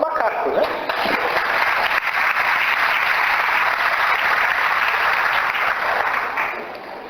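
Steady applause from a lecture audience fills the whole stretch, dense and loud with no clear individual claps, fading only slightly at the end.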